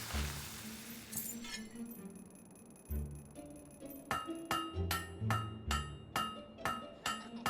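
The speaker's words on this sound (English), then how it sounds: "Stop hitting the anvil." Blacksmith's hammer striking an anvil during forging in the Fable III video game: a steady run of sharp metallic clinks, about one per half second, ringing out clearly over a low background hum.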